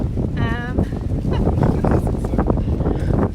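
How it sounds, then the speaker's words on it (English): Wind buffeting an outdoor microphone, a low rumbling roar that persists throughout, with someone speaking over it. "it's really, really windy"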